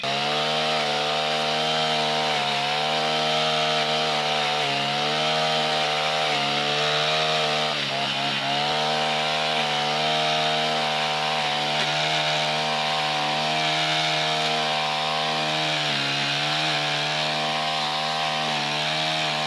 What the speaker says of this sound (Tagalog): Kaya nga po ngayon ay uumpisahan ko na mag-grass cutter.